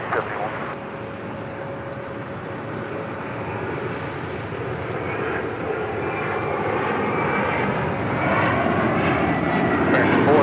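An American Airlines jet takes off from runway 25 right at LAX, its engines a steady, broad roar that builds slowly and stays loud throughout, with a faint tonal whine above it.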